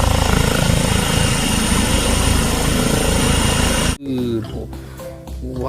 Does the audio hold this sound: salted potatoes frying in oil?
no